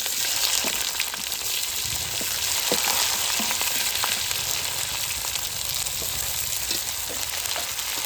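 Onions frying in hot oil make a loud, constant sizzle and crackle that stays close and even throughout, with faint clinks of stirring and no voices.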